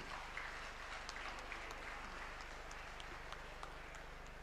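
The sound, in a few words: audience clapping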